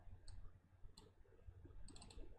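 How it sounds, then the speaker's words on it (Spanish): Computer mouse clicks, quiet and close, sound as three short separated clicks, the last a quick double click, over a faint room hum with no talking. "doble clic sobre la válvula"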